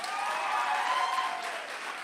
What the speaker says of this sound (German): dat nog eenmaal een applaus geven dan